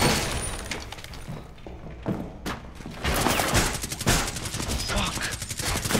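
Rapid automatic gunfire in Rainbow Six Siege: a light machine gun sprays dense bursts of shots from about two seconds on, close and loud over game noise, with faint voices underneath.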